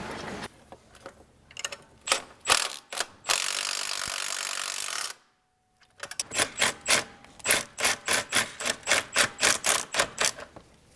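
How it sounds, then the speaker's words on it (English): A ratchet tightening the ball joint nut on a BMW tie rod end: bursts of rapid metallic clicking, a long continuous ratcheting run, a brief pause, then a steady series of loud, evenly spaced clicks. "I'm gonna go ahead and tighten down the ball joint nut for the tie rod end."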